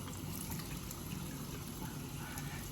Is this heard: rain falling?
no